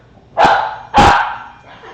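Dog barking loudly right at the camera, two sharp, close barks about half a second apart, the second trailing off.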